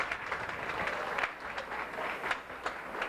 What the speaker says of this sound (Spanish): Un aplauso para los pintores.